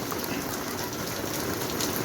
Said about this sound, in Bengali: দেখো বাইরে প্রচুর বৃষ্টি হচ্ছে